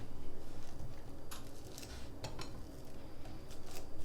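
Knife scraping Kerrygold unsalted Irish butter across bread, a series of short dry scratchy strokes with faint clinks, close and soft with no talking.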